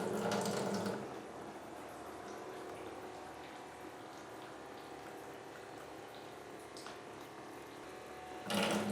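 Dirty water runs through a PUR PLUS FM2500V faucet filter as a steady, even rush from the tap, a bit louder at the start and again at the very end.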